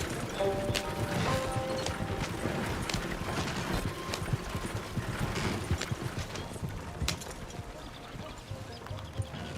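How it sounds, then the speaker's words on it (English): Horse hooves clip-clop steadily in Red Dead Redemption 2, a dense run of sharp knocks at close range that continues throughout over ambient game noise and occasional mechanical clanks. "This is my horse."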